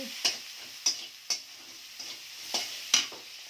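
Tilapia fish seasoned with salt, turmeric and ginger-garlic paste fries in a pan with a faint, continuous sizzle, broken by several crisp, evenly spaced taps of a new spatula.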